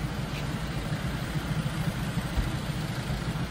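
A tractor engine idles nearby, a low, steady rumbling drone with even pulsing and no clear changes in speed, with no talk over it.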